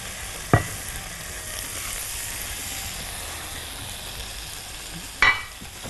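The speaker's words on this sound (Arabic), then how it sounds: "هبدا كده احط شويه من الزبده، احط عليهم الفراخ" Chicken pieces sauté in butter in a pan with a soft, steady sizzle, broken by two sharp clanks of a utensil stirring against the pan, one near the start and one near the end.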